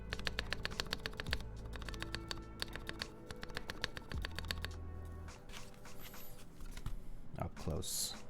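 Keyboard keys clack in quick irregular bursts of typing, close up and fairly crisp, with a few heavier key thocks and a soft rustle near the end.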